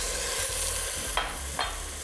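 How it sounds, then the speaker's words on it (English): Dry white wine hits sizzling arborio rice in a pan for asparagus risotto, a close steady sizzle with a couple of brief sharp hissing bursts, no voices. "We're going to add a half a cup of dry white wine"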